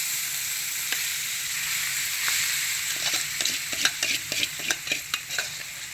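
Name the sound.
sun-dried cucumber dal curry frying with green chillies in pan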